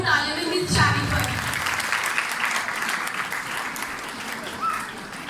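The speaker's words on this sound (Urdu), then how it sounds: "آپ سب کی بھرپور تالیوں میں مس شانیپر" A seminar audience marking International Women's Day breaks into warm applause welcoming a speaker, a steady wash of clapping that holds for several seconds, with a voice briefly heard at the start before the clapping settles in.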